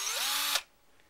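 A power drill fitted with a multi-step bit whines at high speed through a cider bottle lid, a single short close-up burst that stops abruptly and leaves near silence.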